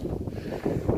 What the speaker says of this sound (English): you'll not want to hear the wind up there